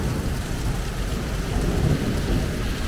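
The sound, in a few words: heavy rain storm in Rome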